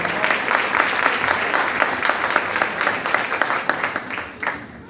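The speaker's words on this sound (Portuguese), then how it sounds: "Vamos recebê-los com uma salva de palmas" Church congregation applauding steadily in a large hall, a dense wash of clapping with some scattered voices underneath, holding strong before easing near the end.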